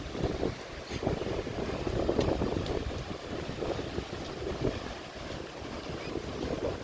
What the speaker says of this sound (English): I love that sound of the waves though.